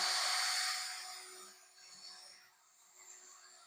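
A cordless drill with a dying battery whirs at a high, thin pitch, loudest at the start and then sagging and fading as it loses power, with no talking.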